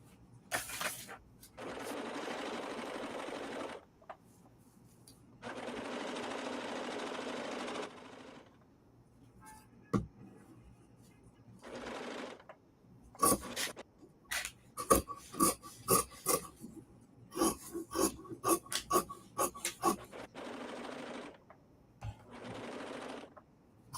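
A bernette b68 maker edition serger runs in long continuous stitching bursts, then in a rapid series of short, stop-start pulses, with brief pauses between runs and no talk over it.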